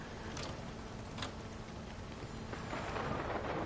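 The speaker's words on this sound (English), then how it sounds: "Sounds like it's raining like a fucking cats and dogs outside" Heavy rain falls outdoors, a muffled steady hiss heard from indoors with a few brief louder bursts, growing slightly stronger toward the end.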